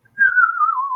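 A tin whistle played by a castle owner in Dublin's Temple Bar area sounds as one clear, sustained tone that slides gently downward, close and loud, with no other sounds around it.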